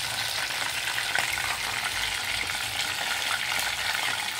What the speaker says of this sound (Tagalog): nilulutong fried chicken